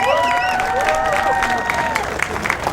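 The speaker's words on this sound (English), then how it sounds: "Round of applause for Preston Kilroy," Applause and cheering from a crowd at a motocross podium ceremony in Calgary, steady clapping with a voice over the loudspeaker early on, fairly distant and continuous.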